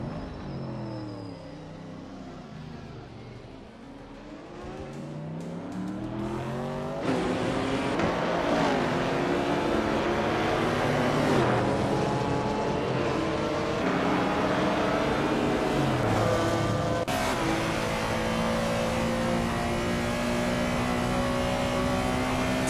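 Racing engine of a 1979 BMW M1 Procar in a racing game, a loud sustained high-revving drone climbing through gears with repeated shifts, steady and close throughout.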